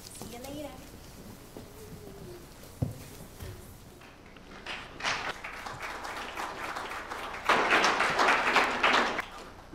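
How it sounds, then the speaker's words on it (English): An audience breaks into applause as a speaker comes up to the front at a congregation gathering. Scattered claps swell into fuller, louder clapping over several seconds, after a spoken stretch with a few taps. "I got applause as I came up"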